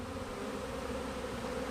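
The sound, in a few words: swarm of honey bees buzzing around a cage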